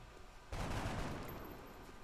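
A sudden burst of rapid gunfire from the turn-based strategy game XCOM Long War erupts after a short quiet moment, then continues as a dense, rattling volley that slowly fades.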